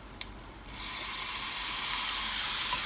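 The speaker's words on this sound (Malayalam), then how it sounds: "ഇതിനകത്തേക്ക് ആ പുളി വെള്ളം നമ്മൾ നേരത്തെ എടുത്തു വെച്ചിരുന്ന പുളി വെള്ളം" Tamarind water hits hot oil with chili powder for a chili pachadi: a sharp click, then a sudden loud, steady hiss and sizzle that continues to the end.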